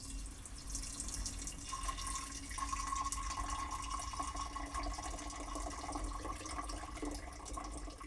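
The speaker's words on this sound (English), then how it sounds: "securing this stainless steel sprouting screen onto the jar where the lid would normally go and pouring out the wort" Homebrew wort poured from a jar through a stainless steel sprouting screen, a steady liquid trickle and splash running continuously at close range with no talking.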